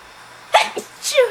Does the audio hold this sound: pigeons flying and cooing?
no